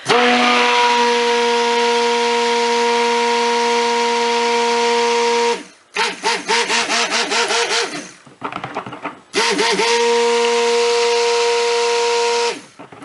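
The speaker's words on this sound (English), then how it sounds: "I think this is a 750 watt stick blender from Kmart. It's very high powered, which is great." A high-powered 750 watt Kmart stick blender mixing soap batter gives a loud, steady motor whine that runs in long stretches, breaking into choppier pulsing bursts in the middle before resuming. No voices are heard.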